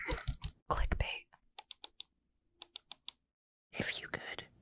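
Computer keyboard typing in short bursts of crisp key clicks, with brief pauses and a spoken voice before and after.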